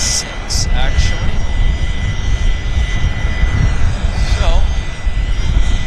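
A WestJet jet airliner bound for Edmonton runs its engines at Vancouver airport, a loud, steady roar that fills the whole clip, with a person speaking briefly over it and a few bird chirps.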